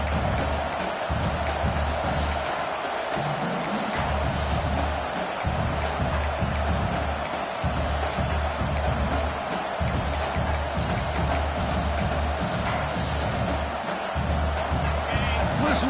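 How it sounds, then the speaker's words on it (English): A football stadium crowd roars in the early going of a game, a loud continuous wash of cheering and shouting with a low rumble, an announcer's voice talking over it at times. "Listen to the crowd energy here in the early going."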